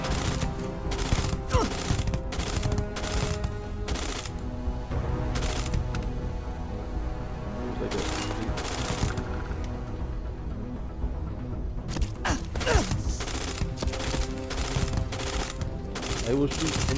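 Rapid automatic gunfire in the space game Starfield, loud bursts of shots in repeated clusters with brief pauses between volleys, sustained across the stretch.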